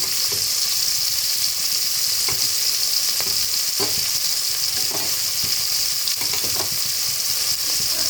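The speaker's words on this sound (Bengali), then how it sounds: "এবার বাটা মশলাটা দিয়ে দিলাম, পেঁয়াজ আদা রসুন বাটা" Onion, ginger and garlic paste sizzles in hot oil in a pan, a loud, even hiss punctuated by repeated stirring scrapes and small pops, close up with no one speaking.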